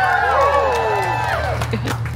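A Disneyland show audience cheers and whoops in a loud, dense crowd burst, with overlapping voices swelling and then thinning out over a couple of seconds.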